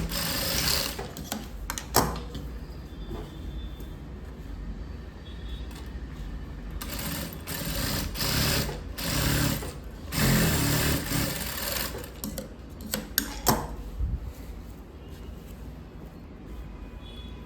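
A sewing machine runs steadily while stitching a chudi lining, with a continuous close whirring that stops and restarts in short bursts and stretches, and no talk over it.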